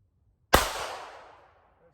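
A single sharp report from an Astra A60 .380 pistol, loud and close, with a bright crack that rings out and decays over about a second into quiet.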